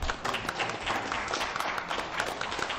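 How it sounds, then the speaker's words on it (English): A small group applauding at a city school board meeting, with steady, moderately loud clapping throughout. "I think a round of applause is appropriate"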